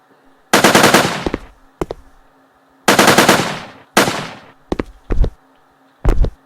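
Player weapon firing in a Unity3D game: loud close bursts of rapid automatic gunfire, two long rattling volleys followed by several short sharp shots.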